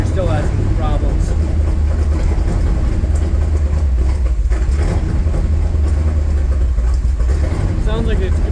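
A Buick 455 V8 with a slight vacuum leak runs with a loud, steady low rumble throughout, while people talk over it.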